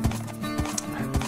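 Horse hooves clip-clop in a steady rhythmic gait while riding in Minecraft, close and clear with no talk over them.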